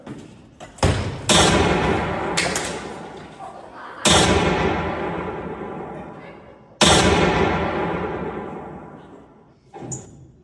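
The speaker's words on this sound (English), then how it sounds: "Gunshots in the library!" Three loud, sharp stage gunshot effects in a live theatre play, each with a long ringing decay, spaced a few seconds apart, followed by a fainter thud at the end.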